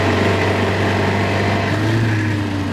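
A 1929 Austin 7 Chummy's small vintage engine runs steadily while driving along, a loud, continuous low hum with a slight rising note near the end.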